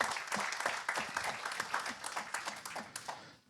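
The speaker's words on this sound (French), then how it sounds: "On vous applaudit, Monsieur le Vice-président." Audience at a French industrial forum applauds the vice-president, a short burst of brisk, fairly faint clapping that tapers off at the end.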